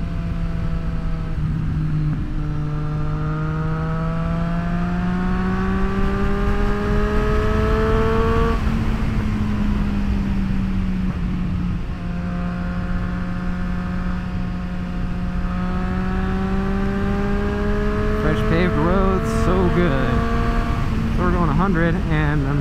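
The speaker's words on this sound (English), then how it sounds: "My God, this bike has so much top end" 2024 Triumph Street Triple RS motorcycle engine climbing through the revs at speed, loud rising whine with a shift in the middle, then winding up again, heard under wind rush with a rider's voice at times.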